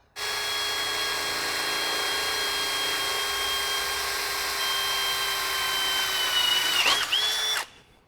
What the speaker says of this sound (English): now it's drilling really far off center